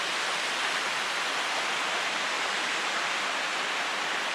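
Steady, loud rush of a mountain stream flowing through a secluded valley in the Langdales near Crinkle Crags, a constant broadband wash of water heard alone without pauses.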